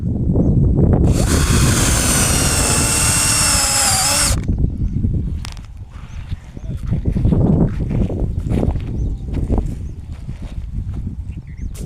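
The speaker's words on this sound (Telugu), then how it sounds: "ఇప్పుడు డ్రిల్లింగ్ స్టార్ట్ చేస్తా. చూడండి, డ్రిల్ చేయడం స్టార్ట్ అయింది." A power drill bores through PVC pipe for rain drip irrigation, giving a loud, close whine of about three seconds that stops abruptly and is followed by clattering handling noise.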